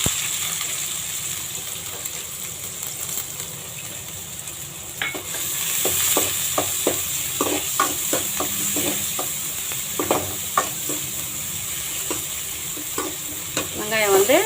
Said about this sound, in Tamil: நம்ம டைரெக்டாக வந்து வெங்காயம் போட்டு வதக்கிக்கலாம்